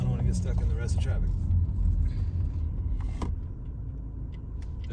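A car drives and pulls up in Cádiz traffic: a low, steady engine rumble with other vehicles around, while a voice talks over the first part before the road noise carries on alone.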